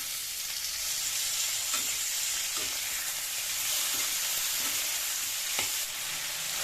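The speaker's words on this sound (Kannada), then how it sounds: "ನಾವೆಲ್ಲ ಒಟ್ಟಿಗೆ ಫ್ರೈ ಮಾಡ್ಕೊಂಡಾಗ ಟೊಮೆಟೊ ಕೂಡ ಹಾಕೋತಾ ಇದ್ದೀನಿ." Onion, tomato and capsicum fry in a pan for a capsicum onion paneer gravy, giving a steady, close hiss of sizzling with a few soft stirring scrapes and no talk.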